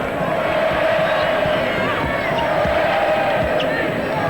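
A packed basketball arena crowd at the 1992 Olympics USA vs Spain game roars steadily, a dense, loud, continuous wall of cheering and noise with no break throughout.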